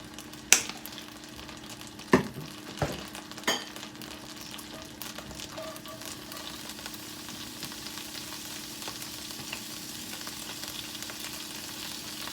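Ginger and garlic frying in hot sesame oil in a pan, a faint steady sizzle running throughout with a few sharp utensil clicks near the start.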